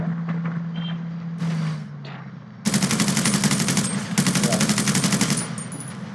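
A gun in GTA 5 lets loose rapid automatic fire, two long, loud, evenly spaced streams of shots following a quieter start with engine-like hum.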